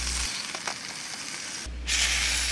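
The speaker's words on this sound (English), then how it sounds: "I'm moving the pan around because my heat is not even across the bottom of the pan." Steak sizzles steadily in a pan on a camp stove as the pan is shifted around, a constant close frying hiss that briefly drops out and then returns louder.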